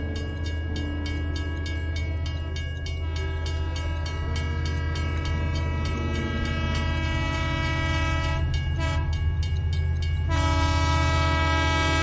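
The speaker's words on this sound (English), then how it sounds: "The last thing he heard was the scream of a train whistle, as a 755 flyer came roaring down the tracks." A train horn wails steadily over the continuous rumble and clatter of a fast passenger train thundering down the tracks, loud and close, with the roar swelling near the end.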